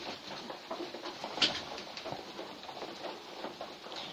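Pigeons coo steadily while being fed, a low continuous murmur with a brief flutter near the middle, moderately close and without talking.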